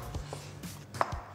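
A knife chopping an eggplant into chunks on a cutting board, several soft close thuds in an uneven rhythm with one sharper cut near the end.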